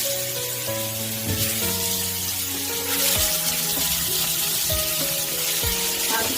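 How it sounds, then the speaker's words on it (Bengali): Shol fish frying in hot mustard oil in a wok, a steady close sizzle and crackle that runs the whole stretch with no voices, laced with faint clinking and tonal hum from the kitchen. "এখন আমি কড়াইতে সরষের তেল দিয়ে দিই, গরম হয়ে গেছে। এখন মাছগুলোকে ভেজে নেব।"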